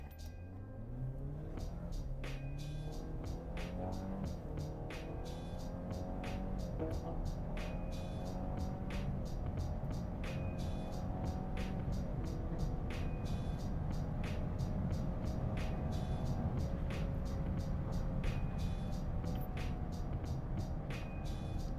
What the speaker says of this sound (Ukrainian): я плавно, ну доволі доволі плавно, як для гонки, нажимаю педаль газу